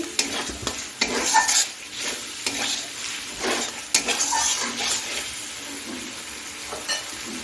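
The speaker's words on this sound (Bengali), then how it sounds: "এখন আমি মটরশুঁটিটাও দিয়ে দিচ্ছি দিয়ে একটু নেড়ে চেড়ে নিচ্ছি" A spatula stirs green peas through sizzling masala in a hot pan over high flame while cabbage ghonto is being made. Irregular scraping strokes and clatter sit over a continuous frying hiss, with no talking.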